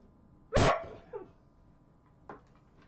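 Dogs out in a yard give a loud, close bark followed by a short yelp, then a fainter single bark a moment later, with no talking.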